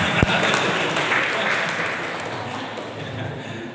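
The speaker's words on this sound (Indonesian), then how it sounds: "tepuk tangan buat Tuhan" Clapping from a church congregation giving applause to God during a sermon, a broad steady wash of many hands that starts loud and gradually thins out.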